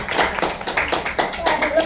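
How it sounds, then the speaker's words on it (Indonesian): Audience clapping at an Indonesian health talk event, a burst of applause with uneven rhythm running throughout, with voices mixed in. "tepuk tangan sekali lagi deh buat RITMIT"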